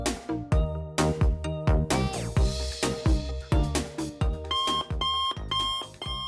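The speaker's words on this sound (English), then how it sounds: "So basically every morning I put lots of alarms on" Several phone alarms ring at once in the morning, overlapping electronic tones and beeps repeating in a steady, insistent pattern, with no one speaking.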